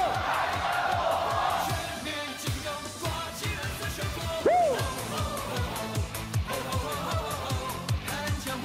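Baseball stadium crowd after a Rakuten versus Fubon game, cheering, whooping and shouting in a dense roar with rhythmic clapping, sustained and loud throughout, with a rising shout near the middle.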